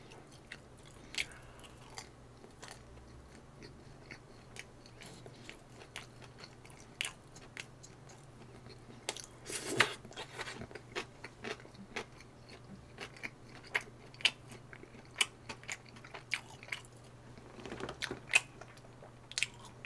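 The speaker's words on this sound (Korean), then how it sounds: "지금까지 피자 알볼로에서 나온 팔도 피자 정말 맛있게 먹었습니다." Paldo pizza from Pizza Alvolo is chewed and bitten up close in a quiet room, giving soft repeated crunches and moist mastication sounds. The bites come at an irregular rhythm, with no talking.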